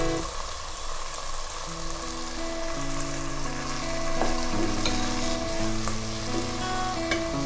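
Chopped onions fry in oil for hilsa pulao, giving a steady, close sizzle that runs the whole time beneath soft background music.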